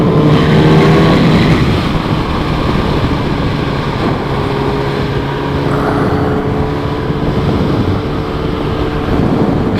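A 2012 Kawasaki Ninja ZX10R inline-four with about 57,000 km on it, heard while being ridden: a loud, steady engine drone under heavy wind rush, with no talk.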